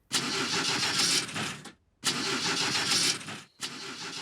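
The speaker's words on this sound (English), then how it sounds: "I will now start the engine." A cartoon fairy car engine struggles to start, cranking in three sputtering bursts. Each burst is broken by a brief silence, and no one talks.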